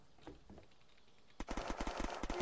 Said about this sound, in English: I already hear gunshots.